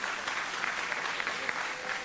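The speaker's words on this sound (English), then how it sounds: "yes, you can clap for that" Applause from a town hall audience after word of 48 bills signed into law, a steady, moderately distant wash of clapping holding evenly for about two seconds with no voices over it.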